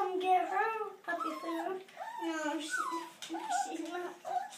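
Litter of 3.5-week-old puppies whimpering at feeding bowls. High, wavering yips and whines come close and almost continuously, overlapping one another.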